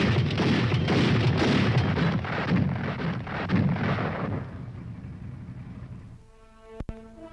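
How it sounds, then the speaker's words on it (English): Fully automatic anti-aircraft gun firing at 240 rounds a minute, a rapid string of heavy booming reports that rolls on for several seconds, then fades into a quieter stretch with a single sharp crack near the end. "When it is used as a fully automatic weapon, it fires 240 rounds a minute."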